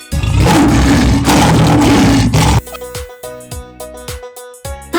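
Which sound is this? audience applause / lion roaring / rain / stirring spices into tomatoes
lion roaring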